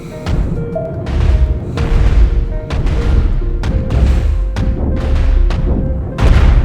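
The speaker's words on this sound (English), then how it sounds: "Kill the cannon, and then blow up the reactor just because it's fun." A reactor blowing up in the space game Cosmoteer: a loud, continuous barrage of booming blasts and crashing impacts, with repeated heavy explosions punching through a rumbling din.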